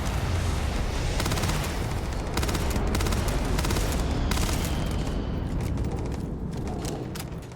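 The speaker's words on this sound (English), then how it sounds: "we're still under fire here" Continuous heavy gunfire from a firefight with pirates in the video game Starfield, a dense roar of rapid shots and booming blasts that stays loud and close for the whole stretch, with no talking.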